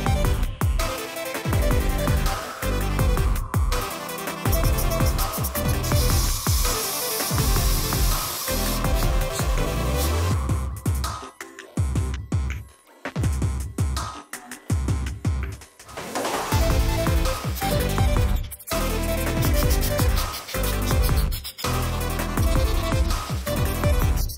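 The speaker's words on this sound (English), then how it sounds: "We made sure that the toys are pretty clean before laying down our white spray paint" White spray-paint primer hisses from an aerosol can onto vinyl designer toys: long, steady, close bursts of spray broken by brief pauses, with no talking.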